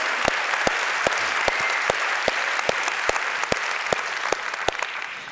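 Steady audience applause fills a large conference plenary hall at the Skoll World Forum, a dense even wash of clapping with a few sharper claps standing out, sustained throughout.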